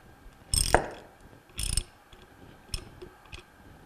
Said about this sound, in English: And we'll tighten up the impeller nut.